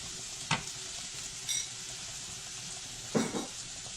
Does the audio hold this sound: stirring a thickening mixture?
yes